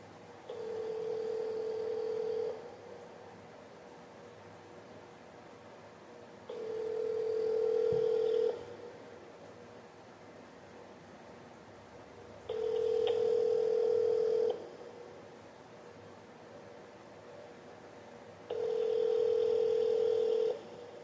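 Unanswered phone call ringback, a steady single tone repeating in four long bursts about two seconds each with roughly four-second gaps, clear over a quiet background with no voices.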